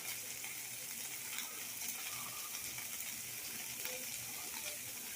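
Imported Polish bacon sizzles in a pan, a faint, steady crackling hiss that runs unbroken throughout with no speech.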